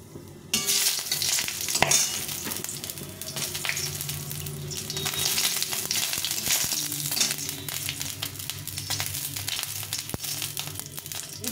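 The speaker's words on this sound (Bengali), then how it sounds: "3টে লঙ্কা ভেজে নেব।" Three chillies fry in hot oil in a wok, giving a steady close sizzle with scraping stir noises and occasional crackles that keep going for the whole stretch after a brief quiet start.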